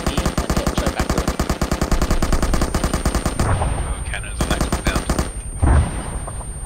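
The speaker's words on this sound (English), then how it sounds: "expend all those cannons in here and get straight back to it" Rapid aircraft cannon fire pounds a compound in the military game Arma 3, a loud, fast continuous stream of shots for several seconds before breaking into shorter bursts and impacts.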